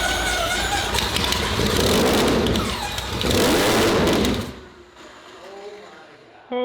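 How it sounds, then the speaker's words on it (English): A twelve-rotor rotary engine fires up and revs hard, a loud, raw roar with rising and falling surges for about four seconds before it cuts off, leaving quieter background and some faint talk. "this thing can finally spin like a normal rotary engine speed and hopefully roar to life"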